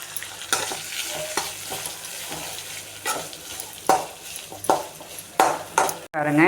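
Poppy seeds, small shallots and coconut dry-roasting in a pan for a chicken gravy, with repeated scraping and clinking strokes of a spatula against the metal over a light sizzle, nearby and fairly loud.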